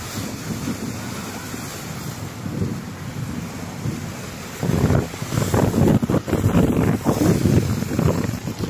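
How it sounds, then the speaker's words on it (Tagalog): Rough sea waves wash and churn at Zayed port under steady wind buffeting the microphone. The surf grows louder and more turbulent partway through, with no voices. "Maalon ngayon ang dagat."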